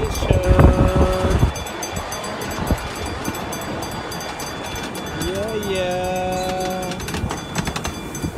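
A miniature train ride rumbles along on its track, with a couple of short whistle blasts near the start and a longer tooting horn later, over steady rolling clatter as people talk nearby.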